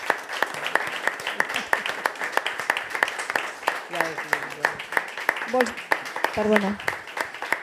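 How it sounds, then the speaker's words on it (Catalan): Audience applause at a theatre tribute event rings out in a steady run of sharp, distinct claps, fairly close, while a few voices speak briefly over it. "ara hem d'acabar amb un aplaudiment increïble per una dona com ets tu"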